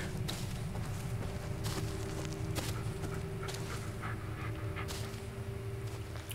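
In the Blair Witch video game, a dog pants rapidly and steadily while its paws patter over forest ground, close and fairly quiet against a low ambient hum. A few soft whimpering breaths are mixed in.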